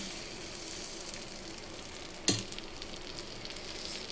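Appam-batter dosa cooks on a hot stone griddle with a continuous soft frying hiss, broken once near the middle by a sharp utensil clack.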